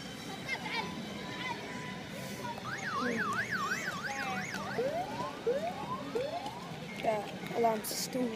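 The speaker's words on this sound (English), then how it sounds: "Alarm system with that car." A car alarm in a theme park, cycling through warbling and rising whoop patterns, moderately loud over a busy background.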